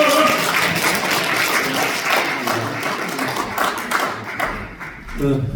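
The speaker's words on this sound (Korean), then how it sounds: "박수 주세요" An audience at a seminar in the National Assembly members' office building applauds after a presentation, dense clapping that runs the whole time and thins toward the end, where a voice briefly begins speaking.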